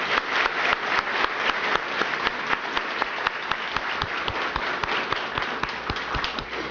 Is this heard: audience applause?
yes